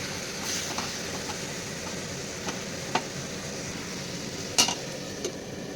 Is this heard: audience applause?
no